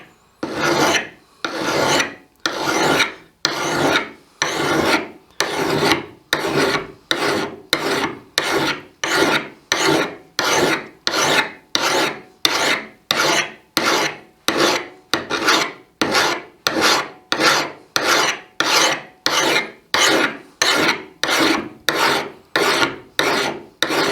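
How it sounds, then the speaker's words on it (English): A fine file rasping along the metal blade of an antique draw knife during restoration, with about thirty even, loud back-and-forth strokes repeating steadily and close up. "we'll give it a once over with the finer file"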